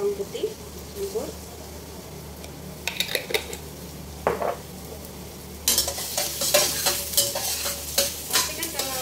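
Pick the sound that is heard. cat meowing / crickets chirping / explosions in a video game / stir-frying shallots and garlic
stir-frying shallots and garlic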